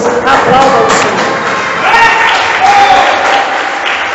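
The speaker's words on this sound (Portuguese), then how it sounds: "Aplauda o Senhor" A Catholic congregation applauds during a sermon, sustained crowd clapping filling the space, loud and near, with a voice speaking over it at moments.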